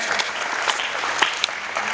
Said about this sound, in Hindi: तालियां वाले जरा जुड़ के बजाइए